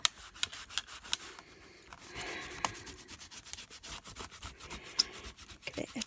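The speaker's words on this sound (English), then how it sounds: "I'm just going to get another clean wipe and wipe my stamp." A rubber stamp is rubbed clean with a wipe, giving soft, close, quiet scrubbing strokes in a continuous back-and-forth rhythm with a few light taps and no talking.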